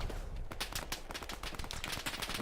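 Machine gun fire in the World War II shooter Hell Let Loose during an 18-versus-18 tournament match, with dense rapid cracks of automatic gunfire running steadily throughout at moderate, slightly distant volume.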